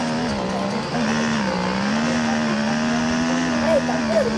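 Race car engines in a racing video game drone steadily with a shifting pitch, a loud continuous whine that holds throughout with brief squeals near the end, with people talking over it.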